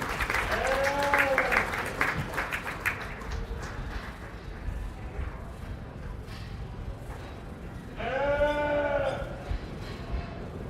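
Clapping rises from the crowd at a county fair sheep show for the participants, with two loud swells and a quieter patter in between, mixed with lamb bleats and an announcer's voice.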